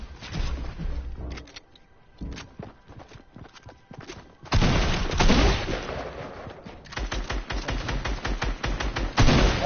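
Submachine gun fire in a video game, with rapid bursts of close, loud shots, some short and some sustained, plus scattered game sounds in the gaps.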